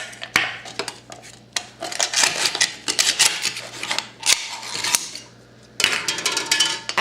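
A butter candle being cut, with loud, close, uneven scraping and snipping strokes in quick bursts, broken by a short pause near the end.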